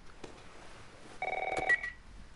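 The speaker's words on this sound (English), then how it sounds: "Oh, the phone rings." A telephone rings in a house in the game The Last of Us, a short electronic ring burst with bright tones after a quiet stretch with faint background sounds.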